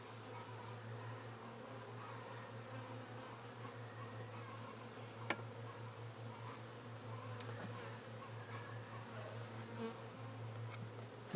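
Honey bees buzz steadily in a dense, continuous drone around an opened hive during a colony split for pollination, with a few faint clicks over the top and no talking.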